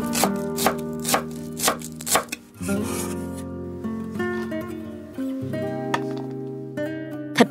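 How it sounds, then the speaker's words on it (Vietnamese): Green onions are chopped with a knife on a board in a run of quick, crisp strokes near the start, over steady background music. "Xắt thêm một ít hành lá nữa để nêm vào thành phẩm cho thơm."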